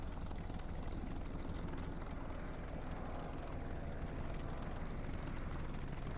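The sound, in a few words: La-5 air-cooled radial aircraft engine in video game War Thunder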